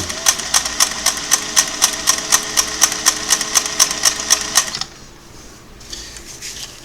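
Singer Model 404 sewing machine running a slow test seam, a steady rapid clatter of needle strokes for several seconds that then stops, leaving quiet handling noise.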